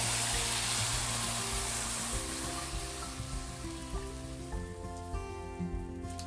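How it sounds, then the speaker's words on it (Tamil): Sizzling and bubbling of boiled, cooled milk poured over roasted coconut heating in a pan, a dense steady crackle that holds throughout and eases slightly toward the end. "இப்போ இதுக்குள்ளே இந்த காய்ச்சி ஆற வச்ச பாலை விட்டு நான் இதை காய்ச்ச போகிறேன்."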